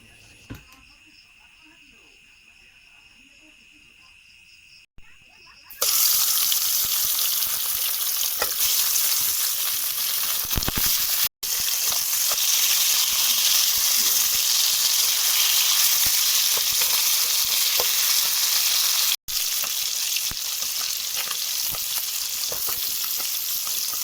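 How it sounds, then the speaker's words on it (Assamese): Loud, steady sizzling and crackling of fish frying in hot mustard oil starts abruptly after a quiet stretch and continues without pause, close by. "মিঠাতেল দি পেলাই মাছখিনি ভালদৰে ফ্ৰাই কৰি ল'ম"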